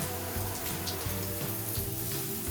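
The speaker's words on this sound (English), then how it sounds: "So we need to spray it with the water first" Water sprayed onto bricks while building a vegetable pot inside a greenhouse, a steady soft hiss close by with faint splashing, low-level and continuous.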